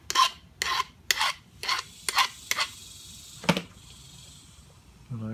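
A hand file rasping across the square edge of a metal punch in a workshop, six or seven short strokes in steady rhythm followed by a longer, lighter stroke, close and fairly quiet.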